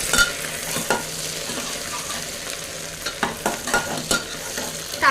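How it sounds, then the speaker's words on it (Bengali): Chopped tomato added to onions already fried until reddish in a pan, sizzling steadily while a spoon stirs and scrapes several times, close and alone. "এখন আমি একটা কেটে রাখা টমেটো দিয়ে দিলাম।"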